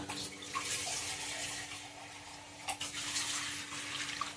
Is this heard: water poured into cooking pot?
yes